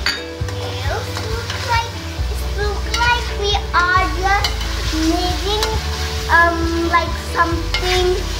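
Masala for chicken biryani being stirred in a pot, loud sizzling and frying with repeated spoon scrapes and stirs while voices, including a child's, talk over it.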